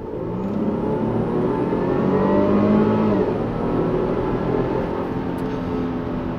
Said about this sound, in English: As with any supercharged engine, you can hear that glorious whine.